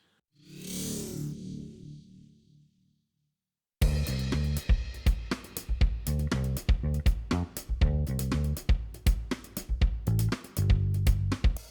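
A brief swelling, airy tone fades out. After a moment of silence, a rhythmic song with steady beats and dense instrumentation plays continuously.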